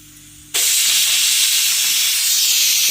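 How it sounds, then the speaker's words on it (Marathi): A pressure cooker whistle suddenly blasts out steam, a loud, continuous hiss that starts abruptly after a quiet moment and keeps going steadily. "आता कुकर हे झालाय, एक विजिल देऊन घेतली"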